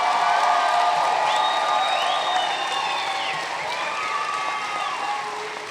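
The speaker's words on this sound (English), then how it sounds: "give a big shout out and a big round of applause, the first of many, I hope, to the reason we're here, the class of 2019" An audience at a graduation convocation ceremony claps and cheers for the graduating class of 2019, a steady sustained round of applause with scattered whoops that slowly eases in volume.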